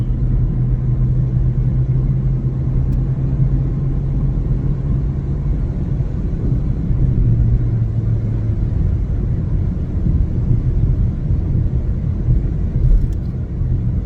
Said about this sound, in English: Wow, this bus is going fast.